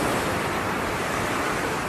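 Sea waves pound the beach at Lemong village, where surf reaches about two metres and is eroding the shore; a steady, loud, close roar of breaking water fills the whole stretch with no pauses.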